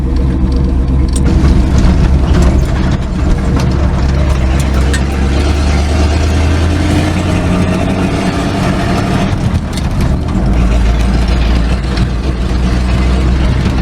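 A 1959 Chevy Viking 2.5-ton dump truck engine drones loud and steady while driving, its deep low rumble constant throughout with mechanical rattles on top, no talk.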